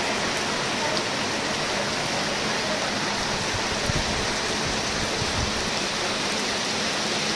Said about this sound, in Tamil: கோவை மற்றும் பொள்ளாச்சியின் பல இடங்களில் கனமழை வெளுத்து வாங்கியது